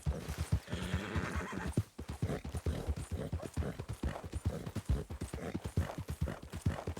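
In Red Dead Redemption 2, a horse whinnies loudly near the start, then hooves clop in a quick, steady rhythm throughout, close and clear.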